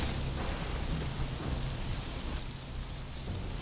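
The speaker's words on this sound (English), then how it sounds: "I love me some good rain." Steady rain ambience in the video game Metroid Dread, a soft, even hiss with low rumbling underneath and no talking.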